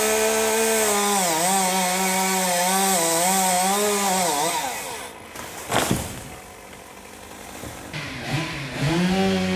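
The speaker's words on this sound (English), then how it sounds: "tree felling with chainsaws" Chainsaws felling and trimming trees at the Genadendal mission station, a loud buzzing whine that holds, rises and falls as the saw bites, drops away midway with a brief crack, then revs back up, with no voices.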